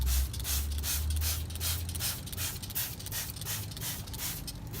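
Gel rust remover being rinsed off a metal vehicle chassis with a hose or spray, giving a steady broadband hiss in regular pulsing bursts, near and fairly loud, with no talking.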